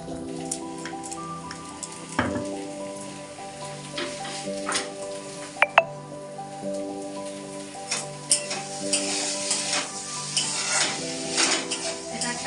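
Potatoes and eggplant fry in a pan at home, a steady close sizzle with a faint hum beneath it, broken by occasional scrapes and knocks of stirring that grow busier near the end.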